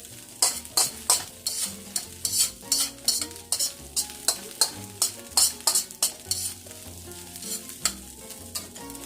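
A spatula stirs white and black pepper into ham fried rice sizzling in a pan, with quick rhythmic scrapes and knocks about twice a second over a constant frying hiss, close and alone.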